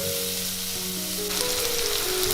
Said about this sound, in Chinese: 把肉末放进来炒香